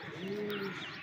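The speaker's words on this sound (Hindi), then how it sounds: "लंबी पट्टी के कबूतर हैं।" Racing pigeons of the long-striped Latha type give a single soft, low, rolling coo. It sounds close but quiet, with a light background hiss and no talking.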